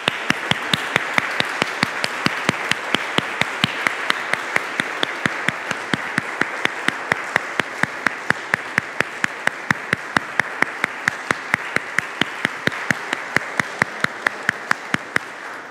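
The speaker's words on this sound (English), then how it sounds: "let us now welcome them with a round of applause" A church congregation claps steadily to welcome new members, dense sustained applause with sharp regular claps standing out near the front, even in loudness throughout with no talking.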